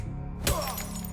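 A bottle smashed in the video game Sherlock Holmes Chapter One, one sharp glass shatter with a short scattering tail, heard over steady background ambience.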